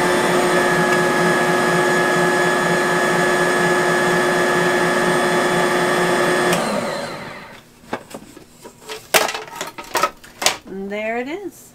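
Bosch stand mixer mixing zucchini bread batter made with fresh ground flour: a steady, loud motor whir with a rhythmic churning that runs for about seven seconds and then stops, followed by clicks and handling noises and a voice speaking.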